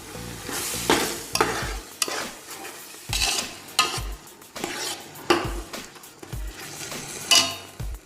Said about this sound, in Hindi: इसको अच्छी तरह से मिलाएंगे।